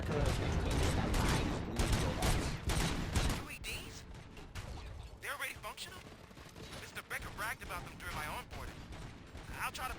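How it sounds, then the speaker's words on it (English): Dense, loud bursts of gunfire from the video game RoboCop: Rogue City, rapid volleys and overlapping shots filling the opening seconds, then scattered mechanical clanks and further shots at a slightly lower level. "Gunshots? Ох, а чё их так много?"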